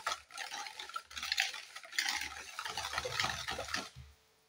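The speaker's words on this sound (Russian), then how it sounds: "Перемешиваем." Wet, sticky stirring in a bowl, a spoon scraping and sloshing through thick cookie batter in steady close strokes, then stopping abruptly.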